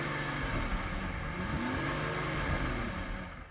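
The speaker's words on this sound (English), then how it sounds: "let's just have a listen to these cars' V12 engines" The V12 engine of a stationary BMW 760Li luxury sedan drones steadily at close range, with a few mild rises in pitch as it is revved. No voices are heard.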